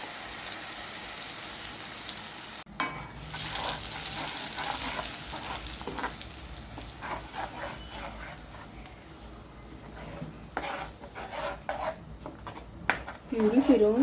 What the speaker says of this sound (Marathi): तर इथे मी टाकते कांदे टोमॅटोची प्युरी,